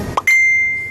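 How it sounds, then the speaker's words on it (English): A notification bell rings for incoming messages: a bright, clear ding with a long, slowly fading ring, preceded by a brief softer chime, close and alone with no talk. "there's bells ringing because people are sending me messages"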